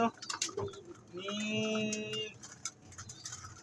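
A racing pigeon in a fancier's loft gives a short cooing call amid soft rustling and clicks, close and fairly quiet.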